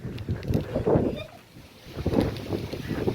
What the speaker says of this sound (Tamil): காத்து ரொம்ப அடிக்குது மேடம்.